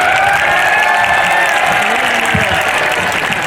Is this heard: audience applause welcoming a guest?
yes